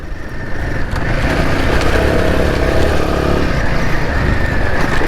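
A Royal Enfield Himalayan 450 motorcycle engine on a trail gives a loud, sustained drone that swells slightly as it pulls, close and continuous, with rough wind buffeting mixed in.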